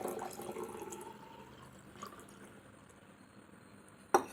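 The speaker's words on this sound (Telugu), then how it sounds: "ఇందులో వాటర్ పోస్తున్నాం ఫ్రెండ్స్ నార్మల్ వాటరే" Plain tap water is poured into a container for a turmeric colour experiment: a faint trickle with scattered drips, ending in a sharp clink against the vessel.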